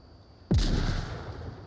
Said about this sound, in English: Ooh, an early frag grenade.